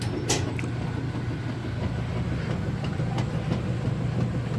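A GE gas dryer's motor runs steadily on its first gas test before the heat comes on, a continuous low rumble with a faint rhythmic ticking from the drum, close and alone.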